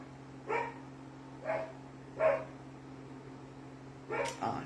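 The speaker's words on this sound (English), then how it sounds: "Why do we have barking dogs?" Neighbor's dogs bark outside at a distance, a few single woofs spaced about a second apart followed by a quicker double bark, moderately faint over a steady low hum.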